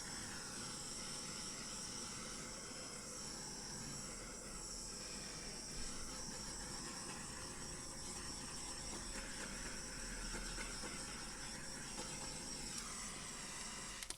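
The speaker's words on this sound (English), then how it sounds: "Now I'm going to torch it." A hissing torch flame played over a freshly poured acrylic paint pour mixed from several brands with 50/50 pouring medium and PVA, a steady close broadband rush that holds for the whole stretch with slight swells and no talking.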